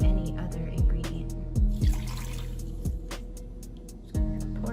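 A cup of elderberry is poured into a mixture, making splashy liquid pouring and dripping sounds with several distinct plops and glugs, loud and close.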